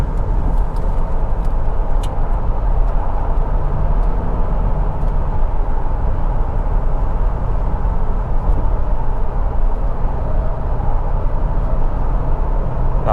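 Toyota Fortuner GR Sport 2023 cornering at around 110 km/h, giving a steady, loud cabin drone of engine, tyre and road noise that holds evenly throughout with no speech.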